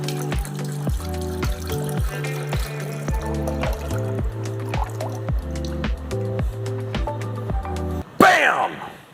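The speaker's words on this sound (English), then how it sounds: "we're gonna put this entire box of broth into this saucepan" A full box of broth tipped into a saucepan, with a short gurgling, splashing pour near the end that follows a stretch of rhythmic background music.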